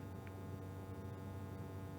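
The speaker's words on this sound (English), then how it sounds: "that's the sound of the fan." Steady low electrical hum of the small cooling fan in a TP-Link TL-SG1016PE network switch under no load, close up, with a constant broadband hiss and no talking.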